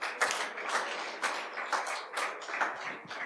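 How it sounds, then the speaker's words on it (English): Audience applause for a presenter after a startup pitch at an energy-tech event, a steady patter of many hands clapping at moderate volume with no talking. "Clap for him, please"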